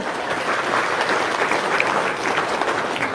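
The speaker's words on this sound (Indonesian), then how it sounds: "Cep, tepuk tangan dulu dong." A room full of people clapping together, loud and close, a thick even burst of applause lasting a few seconds with no gaps.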